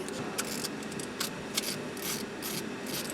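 A ratchet snugging an exhaust bolt on a turbo V6 Mercedes GLE M276, with a quick series of light clicks in short bursts, close by and fairly quiet.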